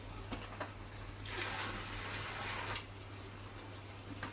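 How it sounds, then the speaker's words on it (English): Pond water sloshes and swirls around inside a bucket, a soft rushing wash that swells for about a second and a half over a low background hum, with faint knocks around it. "bucket a quick swirl around with a bit more pond water"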